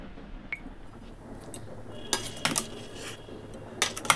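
A pot of dal is set down on a home kitchen stove with a few soft metallic clinks and knocks of cookware, faint and close, in a quiet room.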